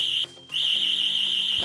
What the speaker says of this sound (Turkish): Alarm çalmaya başladı.